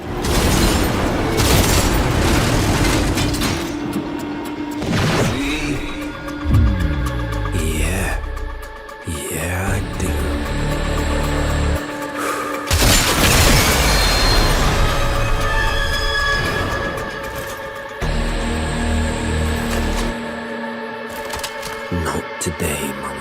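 Video game combat with a tank being shot and exploding: loud booming blasts and crashing impacts over layered game sound, dense and chaotic, with brief vocal gasps mixed in.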